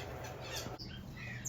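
Pet birds in an aviary give harsh, near squawks, one loud burst followed by thinner shrill calls over a steady background hum.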